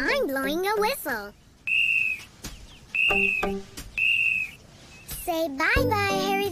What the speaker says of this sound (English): I'm blowing a whistle.